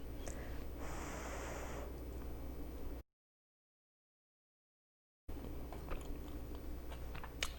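Chewing on Thanksgiving stuffing made with almonds and apples gives close, soft mouth sounds and breathy noises, broken by a stretch of complete silence before the chewing resumes.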